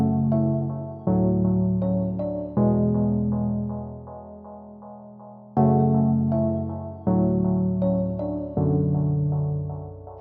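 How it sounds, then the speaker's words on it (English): A bell sound in a beat, pitched down an octave, rings out a slow melodic phrase of repeated chiming notes with decaying tails over sustained low tones, clear and without talk. "Same thing with this bell in the verse section, again just pitched it down an octave."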